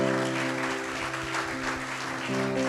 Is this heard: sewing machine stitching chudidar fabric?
no